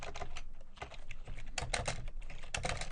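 Rapid clicky keystrokes on a computer keyboard while code for a variable is typed, coming in quick bursts with brief pauses, close and clear.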